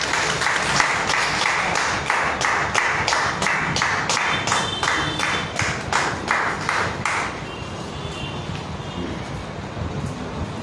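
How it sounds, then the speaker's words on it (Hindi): Loud applause greets an honoree at a Hindi poetry gathering in Delhi, a crowd clapping in a sharp, evenly spaced rhythm before breaking into scattered, softer claps. "उनके लिए एक बार जोरदार तालियां।"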